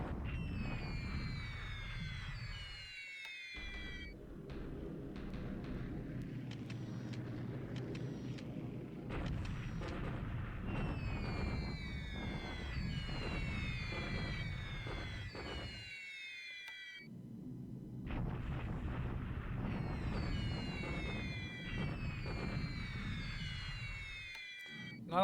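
Bombing runs on troops at Wenchow in a WWII strategy video game set in February 1942, a continuous rumble of explosions and heavy blasts with droning aircraft and high whistling sweeps, steady and loud for the whole stretch, broken by brief silent gaps.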